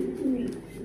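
A single soft coo from a racer hen pigeon in a loft in Mirpur, Dhaka, brief and close with low background hiss.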